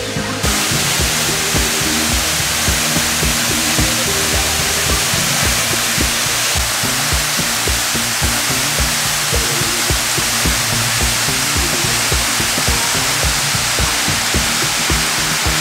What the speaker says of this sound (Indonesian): Mereka punya air terjun sendiri.